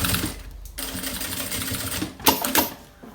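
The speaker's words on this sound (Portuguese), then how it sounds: "Faço o retrocesso e passo aqui a costura pra dar esse acabamento aqui." Sewing machine stitching a backpack seam with a backstitch, a steady mechanical whir running nearly throughout with a brief pause and a couple of louder clunks near the end, close and alone.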